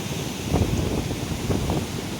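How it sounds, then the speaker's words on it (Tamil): Water rushing steadily through the sluice of the Kallanai (Grand Anicut) dam, a broad, continuous roar with gusty wind buffeting the microphone and no voices. "கொஞ்ச நேரம் அப்படியே அமைதியாக இந்த சத்தத்தை கேட்டுக்கிட்டு தண்ணி எப்படி போயிட்டுருக்கு அப்படிங்கிறத கொஞ்சம் நேரம் பார்ப்போம்"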